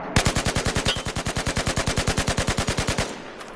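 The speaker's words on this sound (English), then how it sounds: "Just going to pull the trigger." Carbine rifle in Battlefield 4 firing one fast, even full-auto burst of about thirty sharp, loud shots over three seconds, then stopping abruptly.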